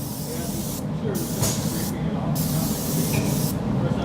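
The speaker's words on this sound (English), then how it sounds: "Squeeze the trigger and begin spraying." A spray gun applying undercoating to a vehicle hisses loudly in several bursts, pausing briefly between them, close by and alone without talk.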